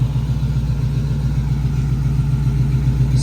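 A 1969 Chevrolet C10 pickup idles steadily close by, its low rumble even and continuous with no voices.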